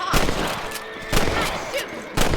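Rifle shots ring out in a Red Dead Redemption hunt for rabbits, three loud sharp cracks spaced about a second apart, each with a short decaying tail over steady outdoor game ambience.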